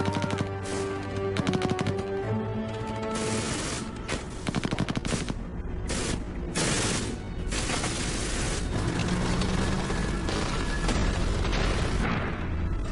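Dense machine gun bursts and booming artillery blasts from a Normandy Juno Beach landing battle in the Storming Juno video game, loud and continuous with rapid rattling volleys and heavy impacts throughout.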